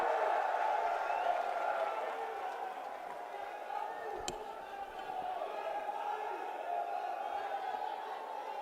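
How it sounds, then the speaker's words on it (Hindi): A large political rally crowd applauds and cheers in a steady, sustained wash of clapping. It sounds broad and somewhat distant and carries on throughout, with a single sharp knock partway through. "जोरदार तालियों से स्वागत कीजिए प्रियंका गांधी वाड्रा जी का"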